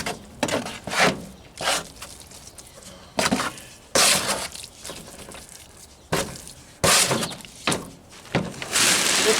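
Portland cement and water stirred into a thick slurry paste by hand for a concrete porch stoop, heard as close, repeated scraping and sloshing strokes in irregular bursts with short pauses between them.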